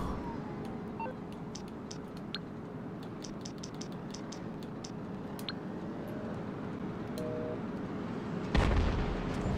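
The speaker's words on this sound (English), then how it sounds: "let's detonate the bomba" In GTA 5 Online, a detonated bomb bursts with a single sudden booming explosion near the end, rising out of quiet ambient game sound and scattered faint clicks and ticks.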